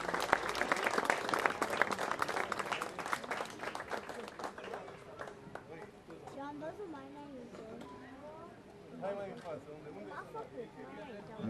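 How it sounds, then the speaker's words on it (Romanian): A crowd applauds a judo coach receiving a career award at a sports ceremony, with steady clapping that gradually fades while someone speaks over it through a microphone. "Aplauze pentru Vasile Fușle."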